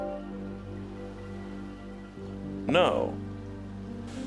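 Steady rain patters on a beach in the platformer Celeste Strawberry Jam, a soft continuous hiss running underneath someone talking, with a brief louder burst of game sound partway through.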